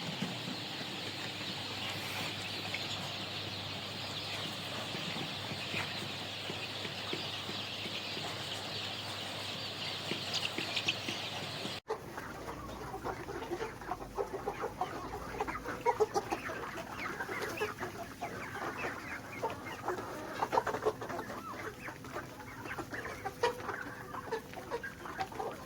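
Chickens cluck and chatter in a yard, a steady mix of close and distant clucks and chick peeps that carries on continuously, with no talking.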